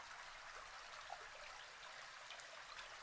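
Water trickles and drips steadily in a sewer, a faint, even wash of flowing liquid with occasional soft drip accents and no voices.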